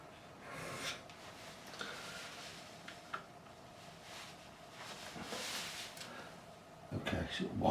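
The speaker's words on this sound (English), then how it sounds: "It's a very coarse file, this one." A very coarse file rasps across the wood of a 1973 Gibson Les Paul Custom neck, a quiet, steady scraping that swells and fades over several seconds before a louder handling clatter near the end.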